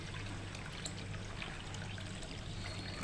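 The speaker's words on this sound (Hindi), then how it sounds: "इसमें 1 लीटर के करीब हम पानी डाल देंगे" Water being poured into a pan of about a kilo of sugar to make sugar syrup, a steady trickling, splashing stream running continuously and fairly close throughout.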